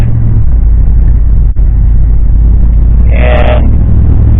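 A car drives along a road at about 30 miles an hour under light throttle, a loud, steady low rumble of engine and road noise with a brief higher whine near the end.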